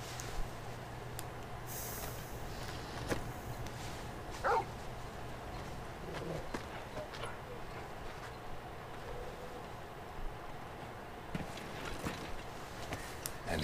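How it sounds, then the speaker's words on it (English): Torgal the hound in Final Fantasy XVI gives a few short, scattered barks and yips, fairly faint, over a quiet rumbling game backdrop. "Who's this fine hound I see before me?"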